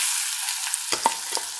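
Ginger goes into hot oil for a Kerala inji curry, raising a bright crackling sizzle that runs steadily throughout, with a few clicks and stirring scrapes near the end.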